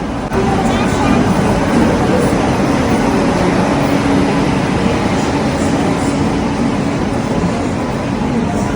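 At Delhi railway station, a train bound for Howrah makes a loud, continuous rumble and clatter that fills the scene, with voices mixed into the din.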